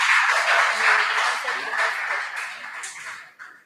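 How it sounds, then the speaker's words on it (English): Applause for junior high quiz contestants from Papaase Catholic Basic A, a steady wash of clapping from a crowd that slowly fades over a few seconds, with a voice briefly audible. "Papaase Catholic Basic A, 18 points. Please clap for them."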